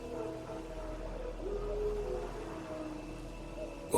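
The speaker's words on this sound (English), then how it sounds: "Wolves? No. Wild dogs." Wild dogs in The Witcher 3 let out a long, wavering howl that rises and falls over a low rumbling ambience and sounds distant.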